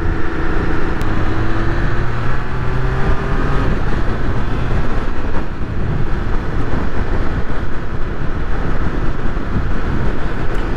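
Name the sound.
wind noise while riding Triumph Speed Triple 1200RR motorcycle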